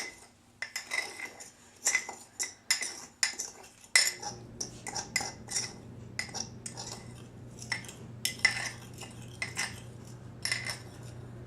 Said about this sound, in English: It says to mix all the dry ingredients.